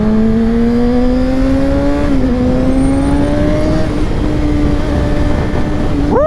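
2022 Kawasaki ZX6R 636 KRT motorcycle under way, its engine note holding steady and climbing slightly through gears against loud wind rush, close and continuous.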